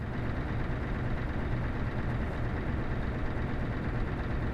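A Scania R2009 truck engine in a truck simulator game, a steady continuous diesel drone and rumble held at an even level throughout, with no talking.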